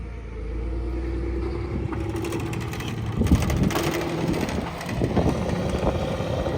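A John Deere tractor pulls a Horsch Joker 6 RT disc harrow across a field, its engine a steady loud rumble with clattering and rattling of the discs working the soil, fairly close, and no talk.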